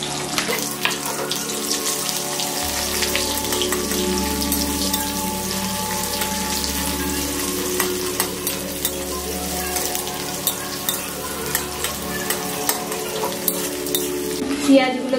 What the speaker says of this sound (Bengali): এবার আমি এর মধ্যে পেঁয়াজ কুচি দেব